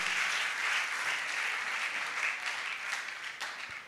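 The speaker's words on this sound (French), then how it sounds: "Est-ce qu'on peut applaudir bien fort pour ça, s'il vous plaît?" An audience at a televised fashion show competition claps steadily, a dense wash of applause heard at moderate distance that continues without a break across the whole stretch.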